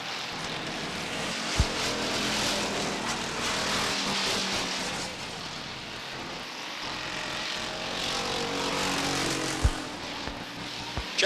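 Stock cars on the final lap at Beech Ridge Motor Speedway in 1990, a loud continuous engine roar passing steadily near the track with no break.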